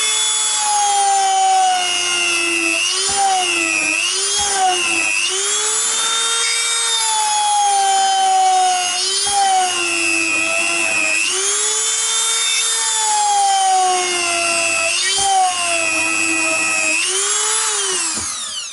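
A power drill with a blunt, hot bit whines continuously into wood, its pitch sagging and recovering repeatedly as it bites under load, loud and close with no talking.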